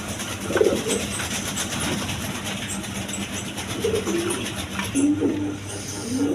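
Pigeons of various breeds at a wholesale seller, cooing in short repeated bursts over a steady noisy background, close and moderately loud.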